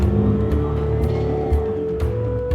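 A motorized tricycle on a rural road runs loud and close, its engine droning and revving continuously with a rough, throbbing rhythm and no talk over it.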